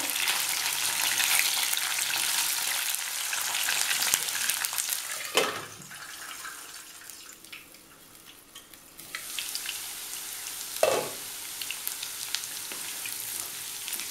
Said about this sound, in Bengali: ফুলকপিটা আমার ভাজা হয়ে গেছে,